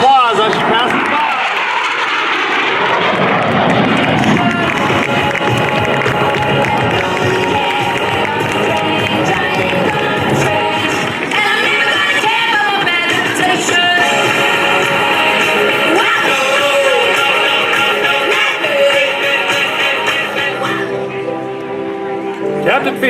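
An F-16 Fighting Falcon with 30,000 pounds of thrust makes its final demonstration pass at the JB MDL Power in the Pines air show, a loud, sustained jet roar that sweeps past and lingers, under an announcer's voice and crowd noise.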